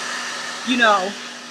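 A hair dryer blows steadily and close by while curly hair is dried, a constant whooshing hum with a brief tonal whine in the middle as the airflow shifts.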